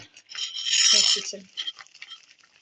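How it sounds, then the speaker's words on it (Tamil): A spoon stirring and sautéing masala in a pan while cooking mutton curry, a short close scraping and rustling burst followed by quieter scattered scrapes. "இப்போ பச்சை வாசனை போகிற வரைக்கும் வதக்கிட்டு கொஞ்சம் உப்பு போடணும்"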